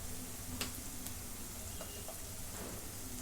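Masala frying in a pan gives off a steady, soft sizzle with faint ticks and stirring scrapes, low and continuous throughout.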